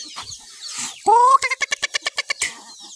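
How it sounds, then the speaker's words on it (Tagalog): Native chickens at a rural backyard farm give a burst of loud, close clucking, one drawn-out squawk followed by a quick run of about ten evenly spaced clucks. "Mga native chicken"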